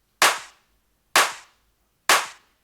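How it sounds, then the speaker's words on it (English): Three separate clap samples from an Ableton 909 kit, played in a remix production session: sharp, dry electronic claps spaced about a second apart, each with a short decaying tail and silence between. "2 claps"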